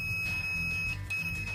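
An analog multimeter's continuity test gives a steady, thin electronic beep that sounds continuously, breaks off briefly and resumes, close and moderately loud over a faint background hum.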